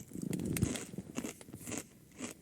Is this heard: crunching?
yes